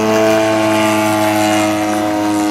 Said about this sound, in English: That's a very difficult aircraft to land.